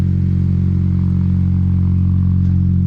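A Honda K24-engined CL9 racecar idles through a 3-inch exhaust with a deep, steady burble, loud and close, holding an even throaty rumble throughout.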